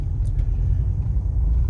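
Thunder rolls after a lightning flash, a loud, continuous deep rumble that stays heavy and unbroken from start to finish.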